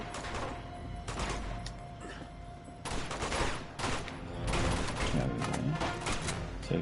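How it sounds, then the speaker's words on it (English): Gunfire bursts crack overhead in Uncharted 2: Among Thieves, several loud rapid volleys with short gaps, mixed with thuds and debris. "So she's shooting above us."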